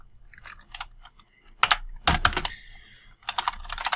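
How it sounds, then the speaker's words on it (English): Bursts of rapid clicking on a computer keyboard, quick keystrokes separated by short pauses, close and crisp with no one talking. "I'm typing the name"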